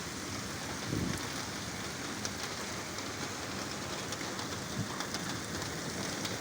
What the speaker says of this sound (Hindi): काफ़ी तेज़ बारिश हो रही है इधर।